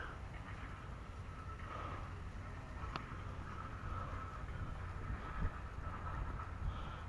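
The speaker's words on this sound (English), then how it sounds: "Big gasoline engine on this guy." A big gasoline push-rod engine on an antique tractor at a steam show runs steadily, a constant low rumble with rough broadband noise and no pauses throughout.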